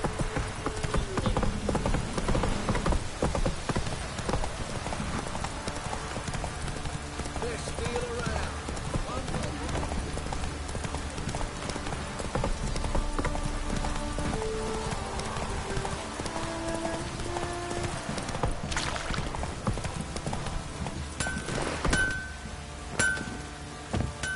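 Roach, Geralt's horse in The Witcher 3, clip-clops along with steady hoofbeats and occasional faint clinks of tack, while voices talk over the walking rhythm throughout.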